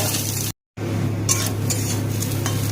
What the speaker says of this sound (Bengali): পেঁয়াজটাকে দিয়ে ভালো করে একটু ভেজে নেব।